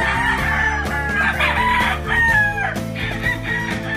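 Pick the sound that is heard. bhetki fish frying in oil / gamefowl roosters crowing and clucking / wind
gamefowl roosters crowing and clucking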